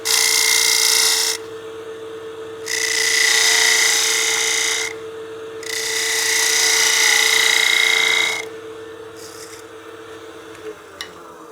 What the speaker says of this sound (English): Just get my spindle gouge